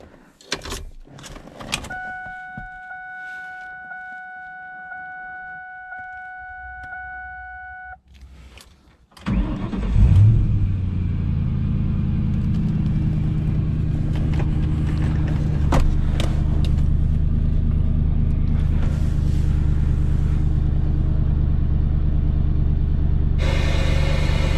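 Manual 2004 Ford Mustang GT V8 in a quiet cabin, with small clicks and key sounds before the starter cranks and the engine fires into a loud, steady rumbling idle that continues to the end.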